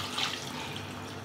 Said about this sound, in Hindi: 1 लीटर पानी डाल देंगे।